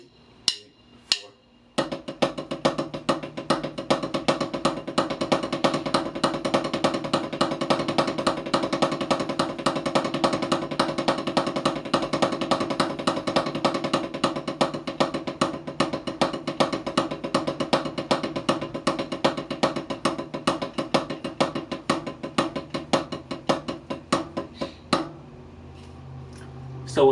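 A drummer plays an accented double paradiddle rudiment on the kit in a dense, steady stream of strokes with regular accents, running close and continuous for about twenty-five seconds after a few opening hits.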